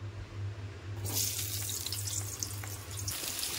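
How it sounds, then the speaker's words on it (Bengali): Potatoes frying in oil, with a hissing sizzle that bursts in abruptly after a quiet moment and holds steady and close over a low background hum. "সেই তেলেতে আলুগুলোকেও ভালো করে ভেজে নেব"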